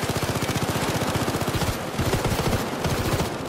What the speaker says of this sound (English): A little machine gun.